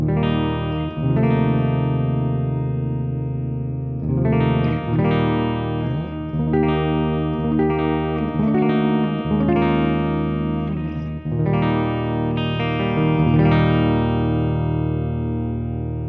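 Chords strummed on a Donner DLP-124B electric guitar through distortion, ringing out loud and close in several bursts, each chord sustained before the next strum.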